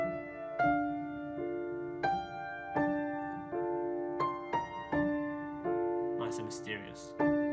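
Slow, mysterious piano chords of a theme from Pirates of the Caribbean, struck one at a time at a steady pace and left to ring, close and clear, with a brief flurry of higher notes near the end.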